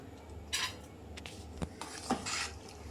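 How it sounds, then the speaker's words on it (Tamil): A spoon stirs sugar into coconut milk in a vessel for a sweet dumpling dish, giving a few soft clinks and scrapes against the pot over a quiet, faint background. "இதை இப்போ நல்லா கிண்டி விட்டுக்கோங்க."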